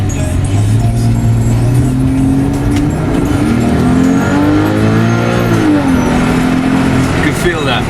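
A turbocharged car engine revs hard and shifts through gears, its loud, steady roar rising and falling in pitch, close up and continuous, with people talking over it.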